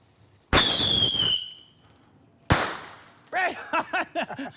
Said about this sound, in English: give me a couple other fireworks